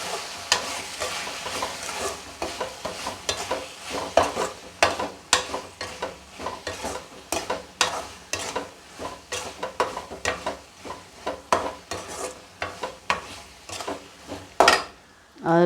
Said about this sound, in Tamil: போட்டு நல்லா வதக்கிட்டு